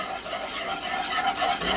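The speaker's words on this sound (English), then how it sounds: "we're just gonna slowly stir that into our mixture" A whisk stirs milk and eggs into dry ingredients for a banana cream pie, making a continuous wet swishing and scraping in a bowl, close and steady, with no talking.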